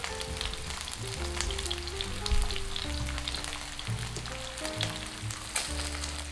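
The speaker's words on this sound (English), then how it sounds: "Then we'll grill the bottom side of the pork for 1 minute." Pork slices sizzle in a pan as they grill for Japanese ginger pork, a continuous crackling fry with gentle music underneath and no voices.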